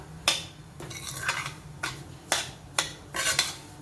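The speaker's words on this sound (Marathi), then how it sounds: "हा रवा आता आपल्याला बदामी कलर येईपर्यंत छान असा खरपूस भाजून घ्यायचा आहे" Semolina roasting in ghee in a pan, stirred with a metal spoon: sharp scraping clinks arrive in a loose rhythm of about five strokes, with a soft hiss underneath between them and no voices.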